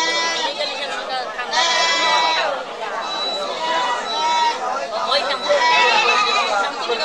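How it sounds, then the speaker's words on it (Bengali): Native Black Bengal goats bleat repeatedly at a goat market, several wavering calls rising close by amid crowd chatter and people talking. "আমি আপনাদের ছাগলগুলো এক নজর দেখাচ্ছি"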